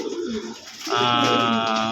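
Domestic pigeons kept in a loft with eggs in their nests coo up close, a loud, steady, throaty warble rising in strength partway through and holding without pause.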